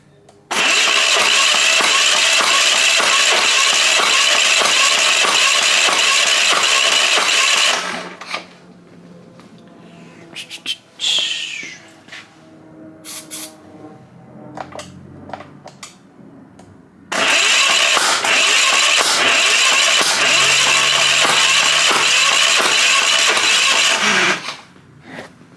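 A Hatz diesel engine on a pressure washer cranks and fires in two long, loud, steady runs of roughly eight seconds each, with quieter clanks and handling noises in the gap between them.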